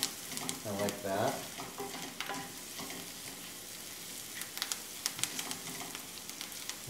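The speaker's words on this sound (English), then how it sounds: "Some of the onions are really starting to brown up nicely." Onions and garlic frying in a pan, browning under a steady low sizzle with scattered crackles and pops, a spoon stirring and scraping near the start, fairly quiet and close with no voices.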